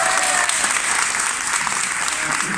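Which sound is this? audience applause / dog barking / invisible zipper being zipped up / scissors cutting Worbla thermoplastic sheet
audience applause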